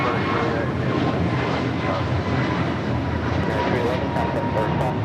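A steady, loud roar of jet aircraft engines fills an airport at LAX, where a Dreamliner operates, continuous and broadband with a voice talking faintly underneath.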